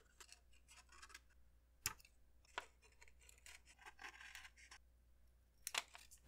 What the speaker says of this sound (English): Take your scissors and cut out these two circles.